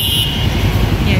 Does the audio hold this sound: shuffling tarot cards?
no